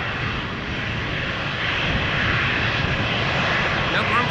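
Norwegian Boeing 737-800 departing Amsterdam Schiphol for Oslo, a loud close jet engine roar that builds slightly over the few seconds, with a voice talking over it.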